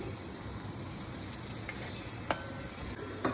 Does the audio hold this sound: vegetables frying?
yes